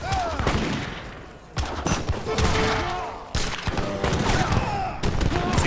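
Volleys of organ gun and militia musket fire in Age of Empires 3 crack out in repeated loud bursts, several distinct salvos spaced a second or two apart over a continuous battle din.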